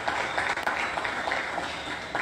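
Steady applause from an audience at an awards gala, a sustained wash of many hands clapping at moderate volume, slightly distant and without individual claps standing out.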